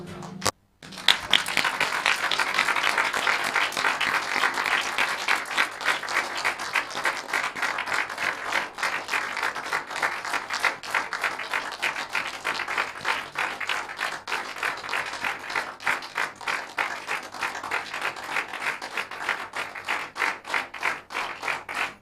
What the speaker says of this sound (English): to stand and give a round of applause